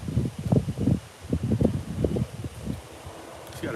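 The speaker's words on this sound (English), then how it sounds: "Anyway, the wind." Wind blows across open rural countryside in China, buffeting the microphone in irregular low, rumbling gusts that rise and fall for several seconds.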